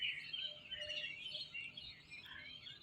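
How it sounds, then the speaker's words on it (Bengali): Many small birds chirp and twitter together outdoors on a cold, foggy early morning, a steady, fairly faint chorus with no talking. "ওই যে পাখিগুলো উড়ে যাচ্ছে,"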